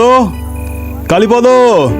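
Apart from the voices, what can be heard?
crickets chirping at night in a jungle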